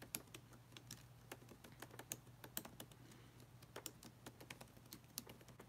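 An email address being typed on a computer keyboard: a quick, steady run of light key clicks, faint and close, with a low constant hum underneath and no talking.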